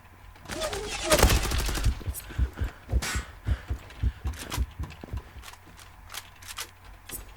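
Gunfire in the online shooter Zula during a one-on-one match, a rapid run of sharp shots and short bursts with a loud cluster early on and steadier cracks after, heard close over a low background.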